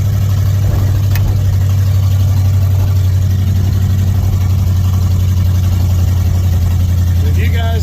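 Old car engine with an engine issue running steadily, a loud, deep droning hum that stays constant at close range throughout, with rough mechanical noise layered over it.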